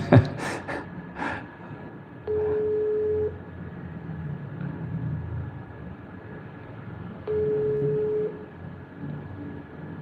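Telephone call-back dialing: two long ringback tones, evenly spaced and fairly faint, following a short bit of breathy voice at the start.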